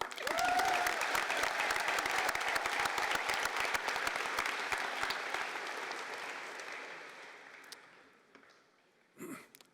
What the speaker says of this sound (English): which means she gets an applause of her own.